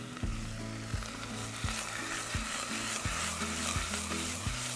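Cape Grim rib fillet sizzles in a hot pan, a loud, dense, steady frying hiss with a regular run of soft knocks from the pan or utensil, and no one speaking.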